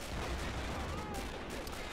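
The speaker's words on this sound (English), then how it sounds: "holy that's a huge explosion" A huge explosion rumbles through a Men of War battle during the 1939 German invasion of Poland, a dense, continuous roar of blasts and gunfire with no talking over it.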